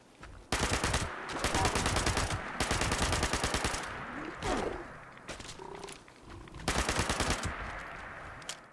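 A 10mm SMG fires in rapid full-auto bursts in Fallout 76, loud and close, with several long strings of shots split by short pauses and creature noises between them.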